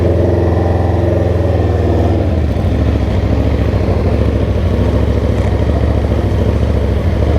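Motorcycles roll in at a supercar meet with a loud, continuous engine drone that rises as the bikes rev, close and steady throughout with no talk over it.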